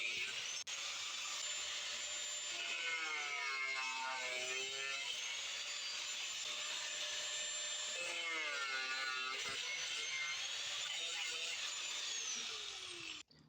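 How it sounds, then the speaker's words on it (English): Angle grinder fitted with a cutting disc slicing a metal bracket plate for a VW MK1 with a 1.9i 8v engine, a continuous high whine that dips and rises in pitch as the disc bites, fairly faint and steady. "We then picked up our grinder with the cutting disc and then began cutting out the outline of the shape that we needed."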